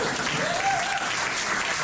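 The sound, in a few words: audience clapping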